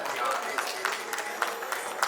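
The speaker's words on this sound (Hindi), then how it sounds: "एक बार भाई साहब के लिए जोरदार ताली बजाएं।" An audience gives a round of applause for a man at a public gathering: steady crowd clapping at moderate distance with scattered sharper claps, fairly soft, with voices faintly mixed in.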